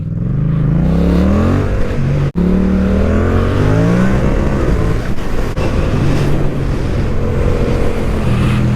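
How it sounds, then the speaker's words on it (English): A Yamaha MT-07 and a Tracer 900 motorcycle ride along the road, engines droning loudly and close with rising and falling revs, steady wind rush throughout and a brief gap in the sound partway through. "we're just riding the old bikes"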